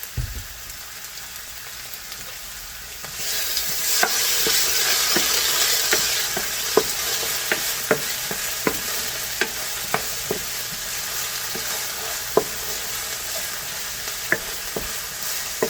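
Fried rice with peas and carrots stir-frying in a pan: a steady sizzling hiss rises after a quiet start, punctuated by regular sharp taps of a utensil against the pan, close and with no talking.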